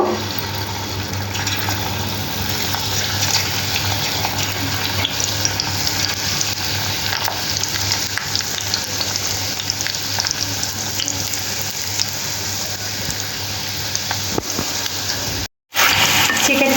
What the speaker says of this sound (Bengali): এবার চিকেনটাকে ফ্রাই করে নেব তেলটা খুব ভালো গরম হয়ে যাওয়ার পরে চিকেনগুলো দিয়ে ফ্রাই করে নেব